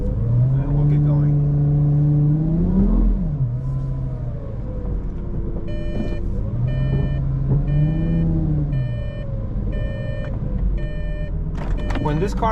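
Lamborghini Gallardo Superleggera set to sport mode pulling away, its loud close engine rising and falling through several revs, with repeated beeping chimes from the car partway through.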